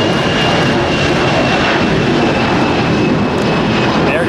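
An Air Canada jet airliner taking off at LAX, a loud continuous engine roar that holds steady throughout, close and without talk.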